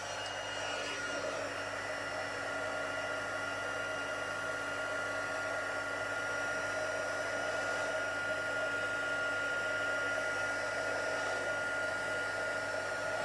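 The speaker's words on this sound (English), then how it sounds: "bring the heat tool in, and then just heat that until that becomes nice and glossy and melts" A heat tool blows steadily while melting embossing powder on a handmade card, a constant close whirring hum that holds at an even level without pause.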